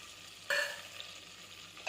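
Whole spices (bay leaf, cinnamon, peppercorns, cloves, cardamom, shahjeera) frying in butter for egg pulao, a close, steady sizzle with a sharp scrape of stirring partway through, no talk.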